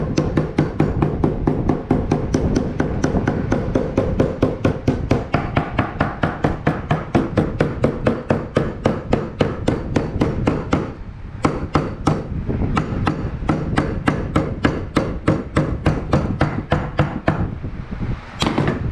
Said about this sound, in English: I like to take my hammer and I go around and tap and tighten everything up